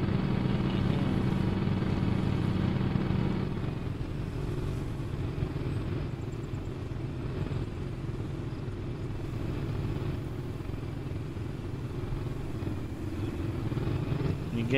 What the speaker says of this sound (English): I'm just driving around.